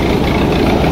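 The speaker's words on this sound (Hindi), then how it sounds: "ट्रैक्टर पूरे जोर लगा रहे हैं" Steady heavy diesel drone of a tractor engine laboring under load while pulling, loud and close, continuous with no breaks and no voices.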